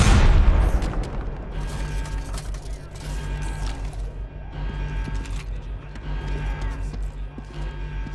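A flashbang grenade bursts with a loud, sharp boom at the very start in Homefront The Revolution, then fades into a steady low hum and ringing tone.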